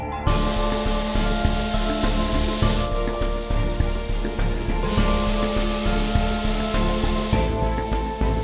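An end grain wooden cutting board is sanded with a loud, continuous power sander drone, its steady hum pulsing slightly with rhythmic passes over the wood, close and uninterrupted.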